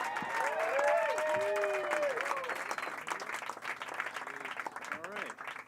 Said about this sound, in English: Start clapping right now for Dane Arden